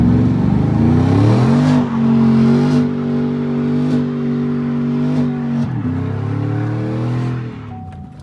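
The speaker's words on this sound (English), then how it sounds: "So I'm gonna do my last naturally aspirated burnout in my black truck" A naturally aspirated 5.3 pickup truck engine revs hard during a burnout and holds at high RPM with a loud, steady roar, pitch rising and dipping over several seconds, with no talking.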